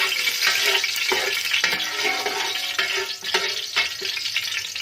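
Masala goes into hot oil in a pot and sizzles loudly and close, with a continuous crackle, repeated stirring scrapes and spatula knocks at irregular intervals, and no one speaking.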